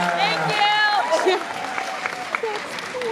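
Audience at a Supernatural fan convention panel in Dallas claps steadily as a crowd, with voices and cheering mixed in over the clapping.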